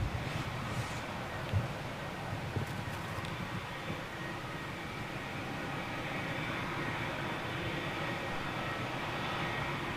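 A Qatar Airways Dreamliner taxis along Taxiway J at an airport, its engines giving off a steady, broad jet rumble and whine that holds at an even level throughout, with no voices.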